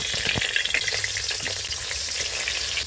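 Fish dropped into hot oil in a kadai fries with a loud, dense, steady sizzle and crackle, close up and alone, with small pops and spits scattered throughout.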